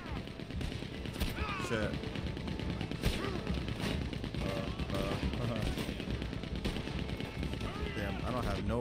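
Rapid gunfire and machine-gun bursts crackle throughout a Red Dead Redemption 2 shootout on PS5, dense and continuous under excited speech from a player.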